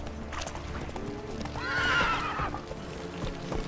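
Roach the horse in The Witcher 3 lets out a loud, close whinny in mid-stretch, while steady hoofbeat clip-clops run underneath throughout.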